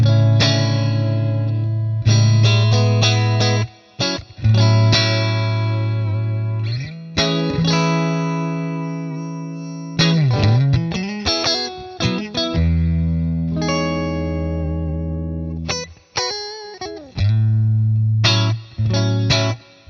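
Eart NKC3 electric guitar with high-output pickups pushed through distortion, chorus and reverb, playing chugging low riffs, bends and ringing sustained notes, loud and continuous with no talking.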